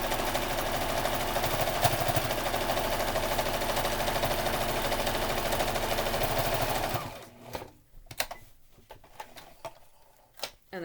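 A sewing machine stitches steadily along the edge of a fabric mask cover in a fast, even whirring run, then stops, leaving scattered clicks and handling taps.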